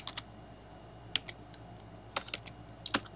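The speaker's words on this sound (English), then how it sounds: "If you don't understand the meaning, type the word again." Soft keystrokes on a computer keyboard, scattered taps in small clusters with gaps between them, close and fairly quiet.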